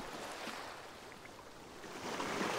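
Waves break on a shore in a steady, broad wash of surf that swells slightly louder toward the end, with no voices over it.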